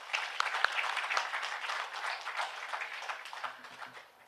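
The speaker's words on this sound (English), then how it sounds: "Please give a big round of applause." Audience applause in an auditorium at an HR summit for the panelists, a sustained patter of many hands at moderate volume, gradually tapering, with a faint voice near the end.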